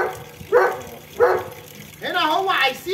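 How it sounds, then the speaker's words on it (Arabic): A pet dog barks and yelps in short bursts, two single calls followed by a longer whining, yelping stretch, close by in a quiet room. "هو هنا الكلب نادالي"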